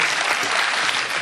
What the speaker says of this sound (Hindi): एक बार जोरदार तालियां उसके लिए हो, एक बार बजाएं।